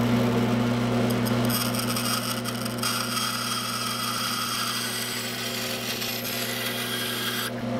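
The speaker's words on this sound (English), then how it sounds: "Can you cut this calcium-rich material on a bandsaw?" Bandsaw cutting through calcium-rich clam shell material, a steady motor whine under a gritty rasping cut that eases partway through, close and continuous with no voices.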